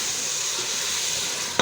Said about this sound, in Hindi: इसे हम 1 मिनट के लिए भूनेंगे।